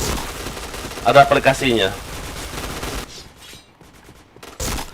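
Gunfire in the shooting game Point Blank, a rapid fusillade of sharp game gunshots in the first three seconds over a talking voice, then a quieter stretch with a final short burst.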